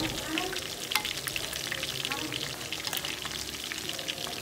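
Catfish fries in a pan, hissing and sizzling steadily with dense crackling spatter throughout.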